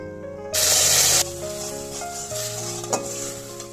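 Water poured into hot browned sugar caramel erupts in a loud, sharp hiss for under a second, then settles into a quieter steady bubbling with a faint scrape near the end.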